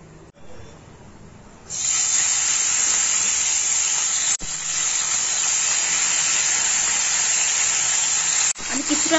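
Small mourala fish dropped into hot mustard oil in a kadai, a loud, steady broadband sizzle that starts after a quiet moment and hisses on for several seconds, with a brief break partway through.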